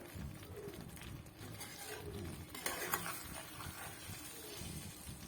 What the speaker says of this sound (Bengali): যেহেতু বেগুন নরম, এটা খুব আস্তে আস্তে নাড়তে হবে।